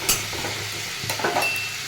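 A tomato and spice mixture for a cauliflower and potato curry sizzles in a pan while being stirred, with a brief burst of close scraping and frying over about two seconds.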